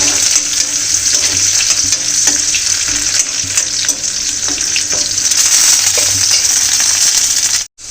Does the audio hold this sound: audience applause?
no